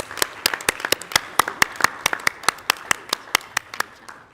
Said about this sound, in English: So I'd give them a round of applause.